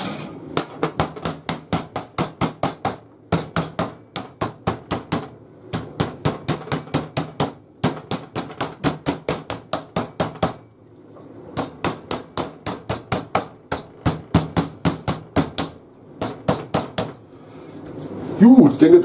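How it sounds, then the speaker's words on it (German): A meat mallet pounds a pork roast flat on a kitchen board in rapid bursts of sharp, close thuds, several volleys of about ten blows each separated by short pauses, with a brief scrape at the end. "Und da werden wir den ein bisschen erstmal ein bisschen platt machen noch, dass wir den hier schön vernünftig ausrollen können."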